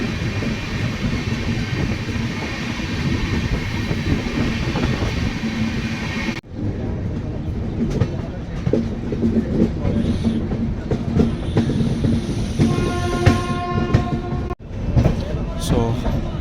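Rajdhani Express between Tughlakabad and Hazrat Nizamuddin, heard from on board, rumbling steadily on the tracks with rhythmic clickety-clack, loud and continuous, with brief interruptions and some talk in the background.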